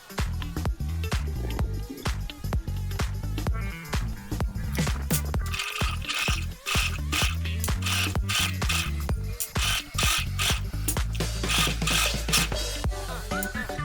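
A sewing machine runs steadily up close, stitching a zipper onto an insulated lunch bag, its needle clattering in a rapid mechanical rhythm with brief pauses and no voices.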